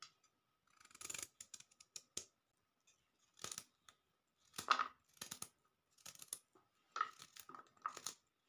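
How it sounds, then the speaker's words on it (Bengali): Vegetables and cauliflower being chopped into very small pieces on a kitchen board for a breakfast noodle dish, heard as irregular clusters of sharp, crisp cuts separated by brief pauses, fairly quiet and close. "সব সবজিগুলোকে আমি এরকমই কেটে নিয়েছি, সেই সঙ্গে ফুলকপিগুলোকেও কেটে নিচ্ছি খুবই ছোট্ট ছোট্ট করে"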